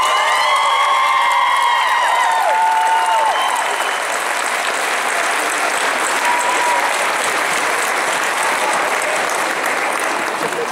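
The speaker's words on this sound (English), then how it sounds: "give yourself a big round of applause" Loud, sustained applause from a large crowd at a CollegeAmerica graduation ceremony, with a few cheers and whoops rising early on before settling into steady clapping.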